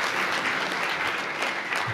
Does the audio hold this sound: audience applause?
yes